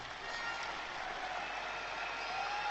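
Steady applause from a live audience at a large seminar event, continuous dense clapping with no individual claps standing out, held at an even loudness throughout.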